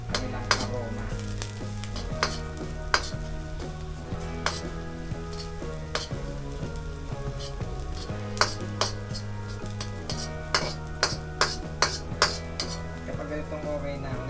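Squid with broccoli and potatoes being sautéed in a pan until golden brown, a steady sizzle running throughout with frequent sharp clinks and scrapes of a utensil against the pan, close and fairly loud.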